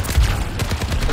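Rapid bursts of video-game gunfire from Overwatch 2 as a player shoots at a robot, loud and dense with overlapping shots in a steady, rattling stream across the whole moment.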